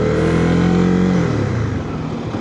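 A motorcycle ridden by a woman passes close by in traffic, its engine loud and steady with a rising then falling pitch as it goes past, with no talk over it.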